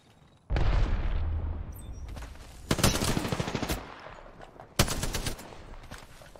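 An R-301 rifle in Apex Legends fires loud, rapid bursts: a long automatic volley up front, then two more sharp bursts with rattling reports, close and punchy with nobody talking.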